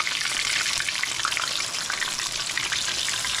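Pieces of chicken for a fried chicken sandwich brown in a hot pan, a dense, even sizzle and crackle heard up close and continuously with no one talking.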